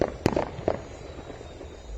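Two or three sharp firecracker pops crack out fairly faintly in the distance outdoors, spaced about half a second apart, with quiet background noise afterward.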